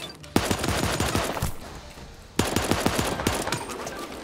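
Gunfire in the Super Animal Royale video game comes as two rapid bursts of automatic shots, each a quick string of sharp cracks, split by a short pause.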